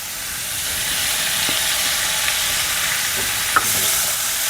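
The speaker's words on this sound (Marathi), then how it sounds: "हे पण चांगलं असं हलवून घ्यायचं आहे भाजी" Pointed gourd cooking with soaked chana dal in a pan, a steady broad sizzle with faint scrapes of stirring and one small clink, moderately loud and close, no voices.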